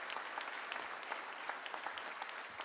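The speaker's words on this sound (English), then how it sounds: "It deserves a thunderous applause and a standing ovation." An audience claps steadily through a felicitation function for the Chief Justice of India held by a High Court bar association, a dense even applause heard from a distance at moderate level.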